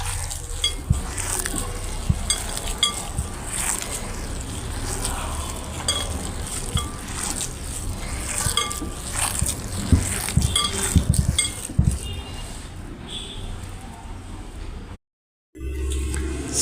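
Chicken snack batter being mixed by hand in a bowl, a steady wet squelching and stirring texture with occasional light clinks, continuous and close, broken by a brief silent gap near the end.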